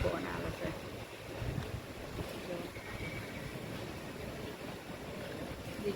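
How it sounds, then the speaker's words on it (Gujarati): A cool wind blows during rain, a soft, gusty rush of air buffeting the microphone, faint and steady throughout with no clear voices. "જોરદાર સરસ પવન, ઠંડો ઠંડો પવન આવે છે."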